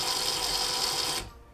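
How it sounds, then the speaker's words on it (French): A small DC motor driven through a TB6612FNG driver module on an Arduino setup spins slowly with a steady, close whirring hum. It stops abruptly after about a second, leaving quiet. "Donc tu vois que le moteur, il tourne beaucoup plus lentement."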